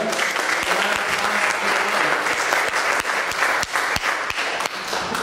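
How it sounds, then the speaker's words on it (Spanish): Church congregation gives a strong, loud round of applause, dense hand clapping close and continuous with a few sharp individual claps popping out, no voices over it. "denle un aplauso fuerte a la vida."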